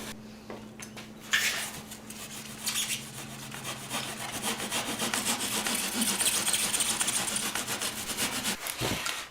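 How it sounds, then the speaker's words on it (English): Razor knife slicing and hogging out foam on a Honda Sabre cafe racer motorcycle tank, a steady close scraping and rubbing texture running continuously with brief sharper cuts, no talking. "just get after it with a razor knife here and just slice right in there and start taking out some foam"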